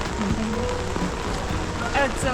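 Rain patters steadily on a church roof in Porto close by, a dense crackle of drops with a voice briefly audible underneath.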